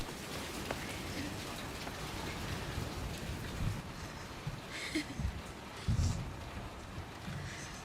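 Heavy rain pours steadily in a film scene, a soft, even hiss of a downpour with a few duller drops and faint voices underneath, kept fairly quiet throughout.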